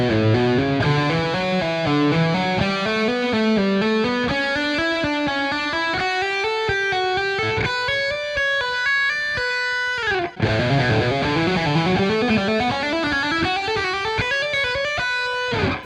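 Electric guitar playing fast legato three-note-per-string scale runs, with long smooth cascades of overdriven notes climbing and descending, a brief break near the middle, then more runs, loud and without voices.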